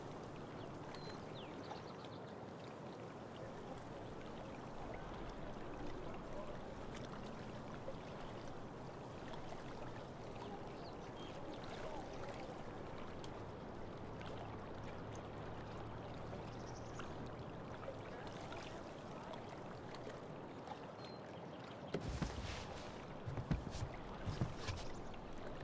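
Kayak paddling in the video game Life is Strange: True Colors, soft rhythmic water swishes and splashes over a steady quiet ambient wash, ending in a few louder thumping splashes.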